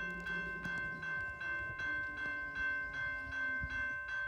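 A Canadian Pacific freight, train 113 led by locomotive 8827 with a military-scheme unit 7021, passes steadily with a rhythmic repeating clang or bell and rumbling rail noise, loud and near throughout.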